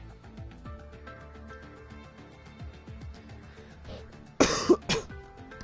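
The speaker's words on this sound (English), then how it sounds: "I do apologise if I cough today." A person with a cold clears their throat and coughs: soft background sounds first, then a sharp loud burst of throat clearing followed by a shorter cough, close to the microphone.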